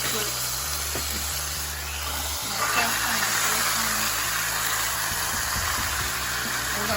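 Pork chops sizzle in a pan, a steady, loud broadband hiss running throughout beneath a low hum, with a person talking over it.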